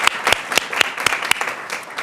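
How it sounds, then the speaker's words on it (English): A few people at a board meeting clap in a sparse, close round of distinct, loud individual claps, about a handful of sharp hits in two seconds, with no voices. "So please give them a round of applause."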